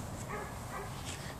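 A dog gives a couple of short barks and yips, fairly close, over a murky background.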